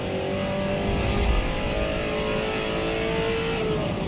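A Ford GT40 Mk2 race car in Forza Motorsport holds a loud, sustained engine note with a slight swell partway through, heard up close and alone.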